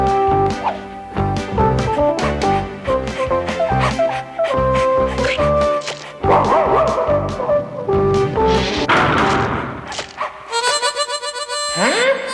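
Small puppies yip and yelp in a cartoon, their barks mixed with busy orchestral music that swells and shifts.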